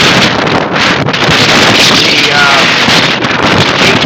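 Strong outdoor wind of 25-plus knots in Denver buffets the microphone with loud, continuous roaring rumble and gusty flutter that hardly lets up, with no other sound rising above it.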